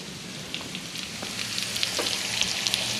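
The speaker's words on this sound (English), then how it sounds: "Let's go in here and add our onions." Onions frying in a hot pan, a dense, even crackling sizzle with scattered small pops, steady and close throughout with no talking.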